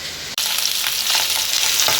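Fish coated in recheado masala fries in a pan, a dense, loud, continuous sizzle and crackle heard up close after a brief cut, with no talking.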